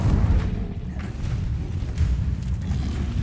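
Incendio fire spell cast in the video game Hogwarts Legacy, a deep rumbling whoosh of flame with heavy low booms swelling and fading over a few seconds.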